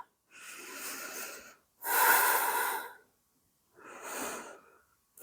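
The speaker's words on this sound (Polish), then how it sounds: "Nie zapomnij, by oddychać. Długie wydechy." Three long, breathy exhalations during yoga, each lasting over a second, separated by short quiet pauses, close and fairly loud with no talking.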